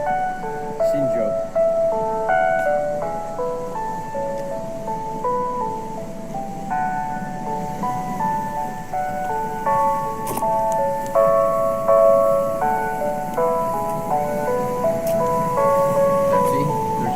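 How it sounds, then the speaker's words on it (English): A Japanese town emergency system test chime plays as a melodic tune over a public loudspeaker, sustained for the whole stretch with steady outdoor background noise beneath it. "The music that just played is a way to test the emergency system due to Japan's high risk of natural disasters."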